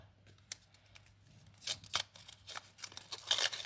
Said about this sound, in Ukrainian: Відкриваємо цей пакетик.